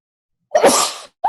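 A single loud, close sneeze bursts out of silence, followed right after by the start of a voice.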